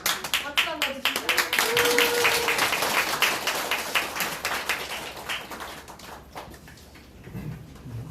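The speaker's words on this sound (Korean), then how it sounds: "박수 한번 주시죠" Audience clapping at a string quartet concert in a small music hall in Geumjeong-gu, Busan. The applause is dense and sustained for several seconds, then thins into scattered claps while people talk.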